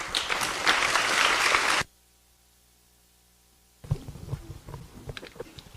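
A keynote speaker is welcomed with dense, loud audience applause that stops abruptly, followed by near silence and then scattered claps and rustling in the hall.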